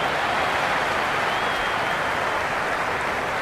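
A packed cricket stadium crowd during a T20 World Cup match between India and Pakistan, a steady, loud wash of cheering and clapping that holds without a break.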